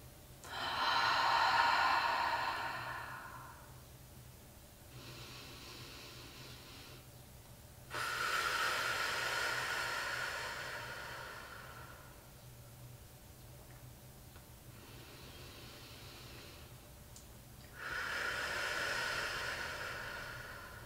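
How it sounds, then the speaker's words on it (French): Slow, deep yoga breaths, drawn in through the nose and released through the mouth, repeat three times in long audible waves with quiet pauses between, close and soft. "prenez trois profondes respirations en inspirant par le nez et en expirant par la bouche"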